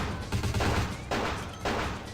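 Heavy gunfire from vampire hunters in the game Vampire the Masquerade Bloodlines, sounding as dense overlapping bursts with three loud volleys in quick succession and no talk.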